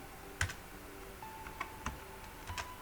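Computer keyboard typing during data entry in an Excel spreadsheet, a few sparse, quiet key clicks spaced irregularly, with no voice over them.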